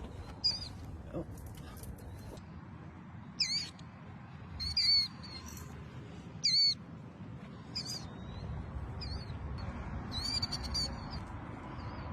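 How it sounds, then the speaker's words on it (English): A bird crying beside a drain, a series of short high chirps and squeaks scattered over several seconds against steady background noise. "A bird crying by a drain."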